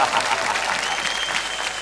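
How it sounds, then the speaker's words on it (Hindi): Children in a school class clap for a speaker, a brief steady burst of applause at moderate level, with some voices mixed in. "मेरे लिए तालियां"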